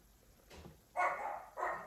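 Small Chihuahuas bark in two short bursts, the second briefly after the first, fairly close and loud against a quiet kitchen backdrop.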